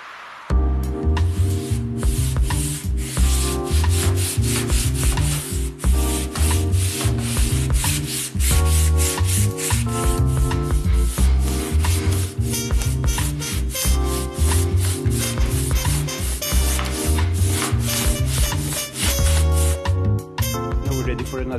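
Sandpaper of 180 grit worked over gray body filler, giving steady, close, rhythmic rubbing strokes that run throughout over a loud tonal background that resembles music.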